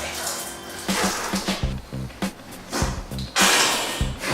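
Goof Off degreaser pours onto a garage floor and foams, giving a continuous wet hiss and fizz with splashy bursts, close and fairly loud, while someone talks over it.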